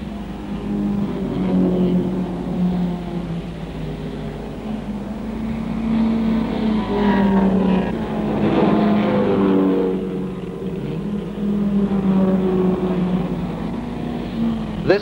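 Jaguar race cars on a 1963 racing circuit: engines drone and rise in pitch as cars sweep past, with the loudest pass-by swelling in the middle before fading.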